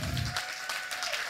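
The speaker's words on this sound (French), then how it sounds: "Applaudissez aussi le jury qui a durement réfléchi." A brief, fairly soft burst of audience applause for the jury at a thesis-presentation competition, a continuous wash of hands with no voices over it.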